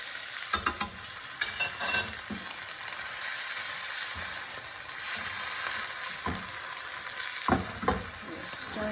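German style burrito filling frying in a pan, stirred with a utensil, sizzles steadily throughout, with sharp scrapes and clacks against the pan in bursts near the start and again toward the end.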